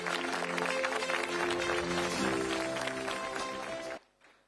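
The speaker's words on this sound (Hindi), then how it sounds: "जोरदार तालियां।" Crowd at an outdoor government anniversary rally on a college ground claps loudly and continuously over sustained music, then the sound drops away abruptly near the end.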